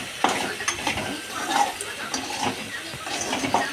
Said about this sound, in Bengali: সুন্দরভাবে ভালো করে নাড়াতে হবে প্রায় দশ মিনিট নাড়াতে হবে